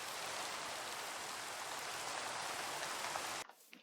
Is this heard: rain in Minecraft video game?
yes